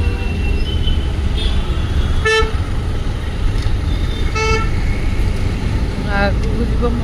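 Metro train at a busy metro station in Bangalore traffic, with repeated short horn toots standing out over steady loud rumble and background noise, while people talk.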